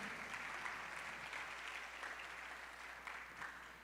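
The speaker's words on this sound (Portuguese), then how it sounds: "Aplauda ao Senhor." A church congregation applauds together, a dense, steady wash of clapping that holds for several seconds and eases off slightly toward the end, with no voice over it.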